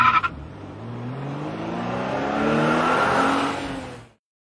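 A car engine revs up and pulls away, its rising harmonics climbing over about four seconds, fairly close and moderately loud before cutting off abruptly.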